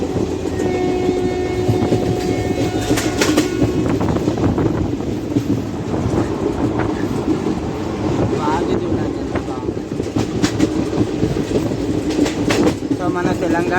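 The Sabari Express runs along the tracks from Thiruvananthapuram Central toward Secunderabad, with a continuous loud rumble and rattling wheel clatter heard from inside, some wind buffeting, and intermittent thumps and screeches, with no talk.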